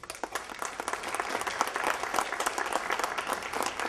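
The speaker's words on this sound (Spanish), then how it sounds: "Nicolás, lo recibimos con un aplauso, por favor." An audience at a conference in Capilla del Monte applauds to welcome a speaker, dense steady clapping from many hands filling the room at moderate volume without speech.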